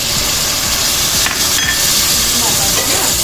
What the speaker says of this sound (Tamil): தக்காளியும் சேர்த்து நல்லா வதங்க வைக்குவோம்.